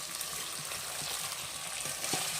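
Chicken frying in a pan as chunks of taro go in, a steady bright sizzle with soft stirring clinks and scrapes throughout, close and moderately quiet.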